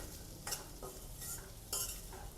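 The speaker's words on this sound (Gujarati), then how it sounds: "2 મિનિટ સુધી આ રીતે આપણે હલાવતા રહીશું" Semolina roasting in a pan for upma is stirred with a spoon, producing a few soft, irregular scrapes and brushing sounds, close but faint, with quiet pauses between strokes.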